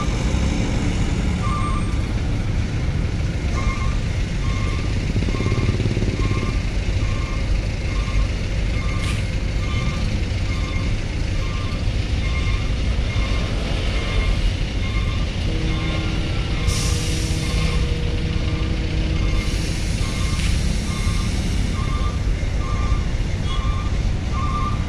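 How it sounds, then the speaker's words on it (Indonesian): Pickup trucks and other vehicles crowd a harbor pier, with steady engine rumble, a repeating reversing beep and occasional hisses of air brakes, alone without talk. "Tempat ngumpulnya mobil pickup nih dermaga 1"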